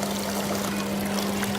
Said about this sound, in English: the water is running all the way into the cavity and off